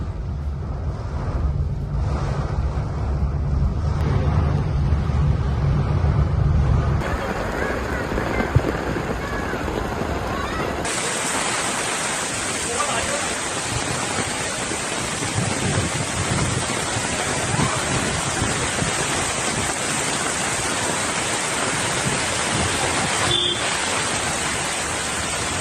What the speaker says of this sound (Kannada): ಮುಂಬೈನ ಜುಹು ಚೌಪಾಟಿ ಬಳಿ ಅರಬ್ಬಿ ಸಮುದ್ರ ರಾಕ್ಷಸ ಸ್ವರೂಪಿ ಅಲೆಗಳು ದಡಕ್ಕಪ್ಪಳಿಸುತ್ತಿವೆ